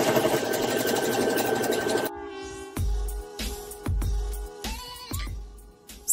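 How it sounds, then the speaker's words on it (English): A sewing machine hums steadily for two seconds while hemming the bottom of a dress, then stops, followed by several short thumps and clunks of handling the fabric and machine. "I'm going to go ahead and hem"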